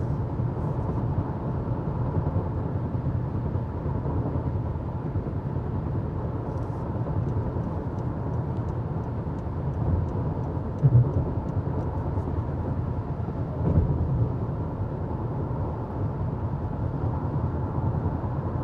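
Steady low rumble of road and wind noise inside a 2023 Honda CR-V on a heavily rutted, washboarded road, continuous throughout with a couple of brief louder thumps, no talking.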